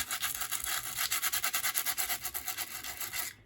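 Steady, fast back-and-forth scratchy rubbing of a sanding block across card paper, exposing its white core, close and continuous, with rhythmic strokes that stop abruptly at the end.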